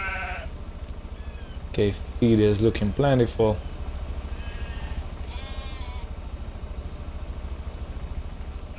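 A few loud, close sheep and goat bleats in a quick cluster midway, with fainter bleats later over a low engine hum. A person talks briefly.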